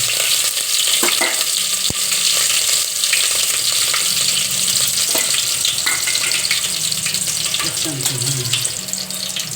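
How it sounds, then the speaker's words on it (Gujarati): Green chillies hit hot oil already holding mustard seeds, tempering a batch of guvar dhokla in a pan. A steady, close, loud sizzle runs throughout, with occasional stirring clinks and scrapes. "હવે આપણે મરચી લીલી નાખશું"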